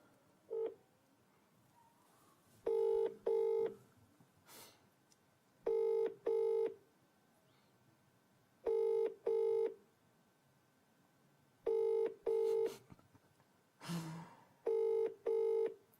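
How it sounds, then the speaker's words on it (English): A telephone rings unanswered, faint and clear, in six evenly spaced double-ring bursts over a quiet background, with a brief soft noise between two of them. "Maybe Alex isn't looking at her phone"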